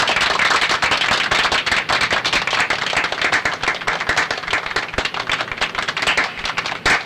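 Rapid, sharp hand clapping in a scene from a Hindi-dubbed South Indian action movie, clapping by a minister. The claps come loud and close in a dense, continuous run with no talk over them.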